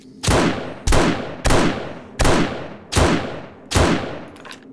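Six evenly spaced, loud gunshots ring out in 7 Days to Die, each one a sharp crack followed by a short decaying tail, fired at a bear.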